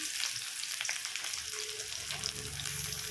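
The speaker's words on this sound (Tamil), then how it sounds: "ஆனியன், ரெட் சில்லி, த பூண்டு and tomato. This all the add பண்ணி நான் ஃப்ரை பண்ண போகிறேன் நான்." Onion, red chilli, garlic and tomato frying together in a pan, with a steady close sizzle and bubbling crackle running throughout and occasional stirring scrapes.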